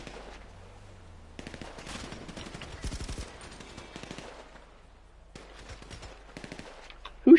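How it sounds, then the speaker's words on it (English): Gunfire rattles through a GTA V Online street scene: scattered bursts of rapid shots, some sharp and near, others lighter and more distant, with brief quiet gaps between volleys. "Who's shooting at me?"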